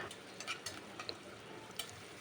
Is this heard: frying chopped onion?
yes